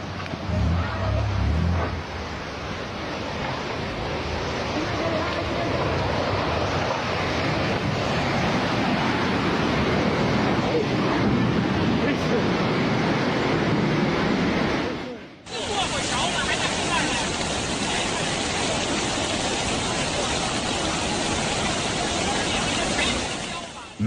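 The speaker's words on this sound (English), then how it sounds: "A flash flood roared into Las Mesitas, Venezuela, catching everyone off guard." Floodwater from a flash flood roars through Las Mesitas, Venezuela, a loud, continuous broadband rush with wind-like noise, cutting abruptly at the midpoint to a second, slightly different roaring torrent of the same intensity.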